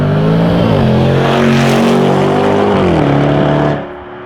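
A 2019 Range Rover SVR's engine, shared with the F-Type SVR, screams loudly on a mountain pass, climbing through revs, dipping between gears and then dropping away near the end.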